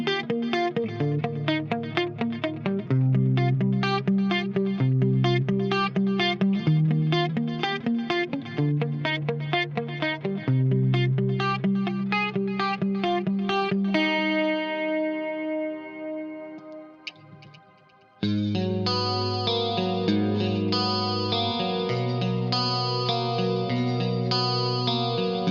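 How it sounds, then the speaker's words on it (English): An electric Jason Richardson Cutlass 6 guitar plays through a Fractal amp-modeling preset, rhythmic distorted riffs with chorus and echo shimmer, a brief ringing sustained chord near the middle, then heavy riffing resumes, with no talk. "Luke, I can switch back to the Cutlass, and this guitar just always sounds fantastic on each of the tones that I use in my Fractal preset."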